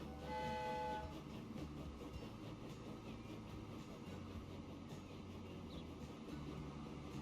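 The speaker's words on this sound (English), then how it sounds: "A quick look at our train." A freight train in the Transport Fever 2 game rumbles along with a steady low drone, a brief horn-like tone at the start, and continuous rolling noise, with no talking.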